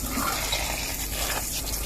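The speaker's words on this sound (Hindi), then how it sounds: "अच्छी तरह चावलों को धो लेना पानी से।" Water pouring and gushing over rice in a pot as it is washed by hand at a home cooking setup, a steady close splashing flow with no talk.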